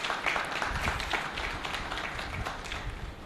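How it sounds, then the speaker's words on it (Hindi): A seminar audience claps together in a steady, fairly faint wash of applause that lasts the whole stretch, with no voices standing out. "मसीह के जलाल के लिए तालियां।"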